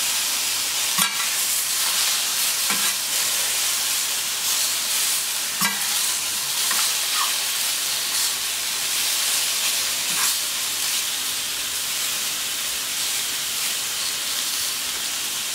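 Mushrooms sizzling as they grill in a pan alongside tarragon-grilled guinea fowl legs, a steady broad hiss with a few faint clinks, no talking.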